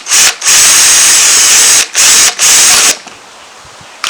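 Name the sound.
power drill drilling a hole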